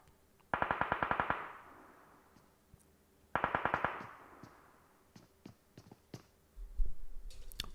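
Gunfire in the mobile game PUBG during an esports match, two loud rapid bursts of automatic fire followed by scattered single shots and clicks, then a low thud.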